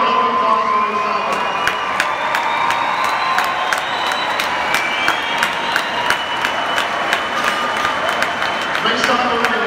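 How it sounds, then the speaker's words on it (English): A crowd at a Guns N Hoses 2017 tribute applauds and cheers loudly with whoops and children's shouts, a dense sustained wash of clapping and yelling that carries on throughout. "We give a round of applause for this hour."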